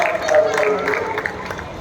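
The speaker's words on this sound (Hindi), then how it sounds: "एक बार जोरदार तालियां बजाइएगा जानवी के लिए, जोरदार तालियां बजनी चाहिए।" An audience applauding a special-needs child named Janvi at a kids' programme, a brief burst of crowd clapping and murmur mixed with a voice talking over it.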